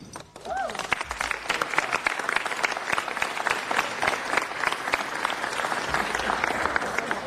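A council chamber audience breaks into sustained, dense applause that carries at an even level for several seconds, with a brief voice audible at the start.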